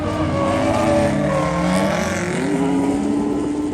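A drift car on a private track day holds a loud, steady engine drone, its pitch sliding up and down as the car swings out toward the edge of the course.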